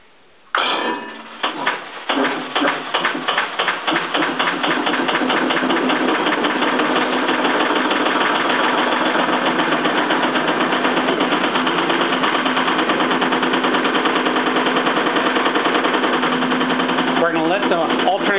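An electric motor spinning an alternator during a transfer switch test starts up with a few uneven bursts, then settles into a loud, steady mechanical drone with rapid rhythmic knocking that holds for the rest of the stretch.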